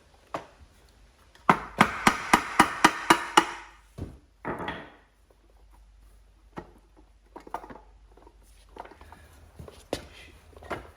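Hammer tapping on a John Deere D100 lawn mower engine part during camshaft removal, with seven quick sharp knocks in a steady run followed by scattered lighter taps, close and clear.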